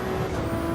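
Race car in Gran Turismo 7 braking over a curb, a steady loud engine and rumbling roar with a sustained whining tone, continuous and close through the short moment.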